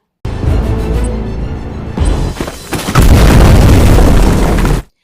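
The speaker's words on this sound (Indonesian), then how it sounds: "si Fani menemukan gadis itu dengan bom yang akan segera meledak." A bomb explosion bursting in, followed by a heavy, sustained roaring blast that fills everything before cutting off abruptly.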